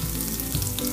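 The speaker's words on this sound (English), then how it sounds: "Add the green chilies and the curry leaves." Green chilies and curry leaves hitting hot oil in a pan for masala dosa filling, a loud, dense crackling sizzle heard close and continuous.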